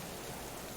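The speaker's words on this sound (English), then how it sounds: "Maybe the rain will clear up a little bit" Rain in the survival video game Subsistence falls as a brief, even, hissing wash of steady noise, heard alone.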